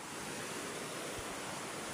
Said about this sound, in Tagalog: Ano, andyan yung sapa, oh.